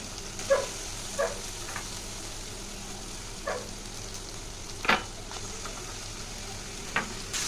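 Chicken pieces with onion and garlic sizzle softly in a pan, a low steady frying hiss broken by occasional scraping stirs and small clinks.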